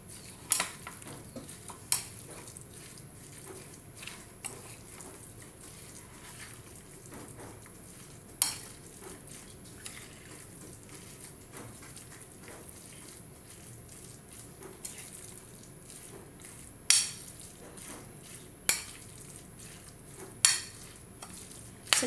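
A spoon stirs hee peow soup in a pot, giving scattered sharp clinks against the metal over a steady, soft sizzling bubble, with no talking.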